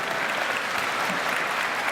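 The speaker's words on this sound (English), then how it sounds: "Councilwoman Tasha Diaz, Majority Leader, let's give her a nice round of applause for the Majority Leader of City Council" Steady applause from a crowd at a school event, dense clapping throughout with no pauses.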